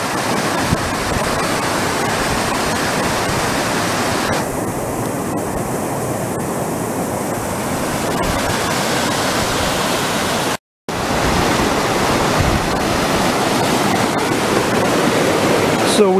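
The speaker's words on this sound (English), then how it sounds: "the top of this little waterfall" A small waterfall on a backpacking trail to Emigrant Lake rushes in a steady, loud broadband roar that carries on without a break, with only a brief dropout partway through.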